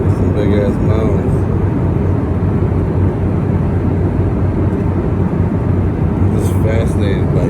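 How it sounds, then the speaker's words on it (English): An airliner's jet engines in flight make a steady, loud, broadband roar from inside the cabin, droning without change for several seconds while a few faint higher tones flicker over it. "Fascinated by jet engines"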